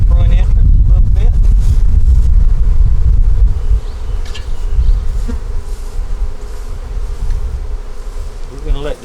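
Honey bees swarm noisily at an open hive, a loud thick buzzing close by that eases slightly after a few seconds and continues steadily to the end.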